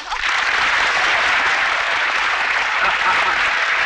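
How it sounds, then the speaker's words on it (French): Studio audience in a televised game show from the 1983 film Le Prix du danger claps loudly and steadily, a dense, sustained wash of applause with no voices over it. "On l'applaudit très fort."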